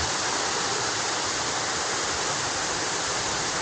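Mountain water pours steadily down through a hose at a camp in General Nakar, Quezon, a loud, dense, unbroken rush close by with no voices.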